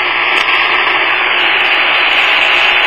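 A Grundig G2 shortwave receiver tuned to 15 megahertz hisses with steady, loud broadband static, no station coming through, a dense unbroken noise with no talking.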